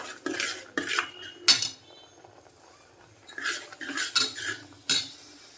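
Metal utensils clink and scrape against a pot while semolina (suji) cooks, with several bursts of clattering and stirring separated by quieter stretches, close and fairly loud.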